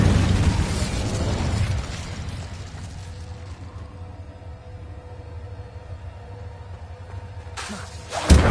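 An Incendio fire spell cast in the video game Hogwarts Legacy erupts in a loud whooshing burst of flame that gradually dies away into a low rumble, followed by a sharp pop at the very end.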